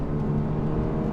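A Toyota GR86 with an automatic transmission drives through turns on a road, its engine making a steady mid-level hum and drone heard from inside the car, with no one speaking.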